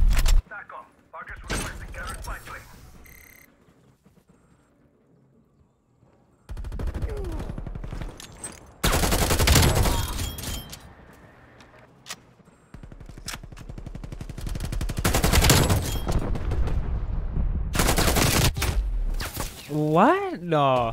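Artillery barrage in a MechWarrior-style mech combat game: loud, dense broadband blasts arrive in heavy clustered bursts with quieter gaps between them, and a voice talks intermittently over the din.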